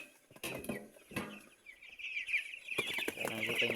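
One-day-old broiler chicks peep in a brooder, a dense stream of high, thin cheeps that grows busier and louder, punctuated by a few nearby knocks and rustles.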